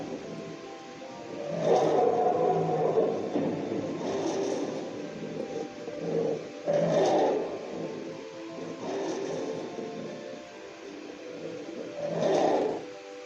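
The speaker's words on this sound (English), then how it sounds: "He could hear the lions growling below." Deep, rumbling growls of lions rise and fall in repeated swells, each lasting a second or two, resonant and fairly close.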